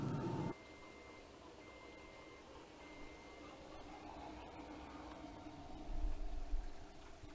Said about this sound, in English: that's the timer that's featured on this controller on the Pro 575.